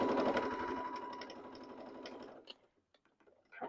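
A sewing machine stitches an apron strap indoors, a fast, steady mechanical whir and ticking that runs for about two and a half seconds, then stops, leaving a few faint clicks and handling sounds.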